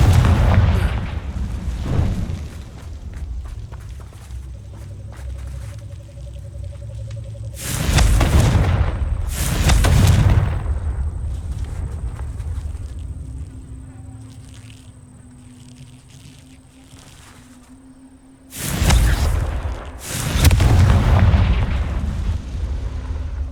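Fire spell explosions in Hogwarts Legacy, several loud booming bursts in pairs, close and heavy, separated by quieter stretches of hum and ambient game noise.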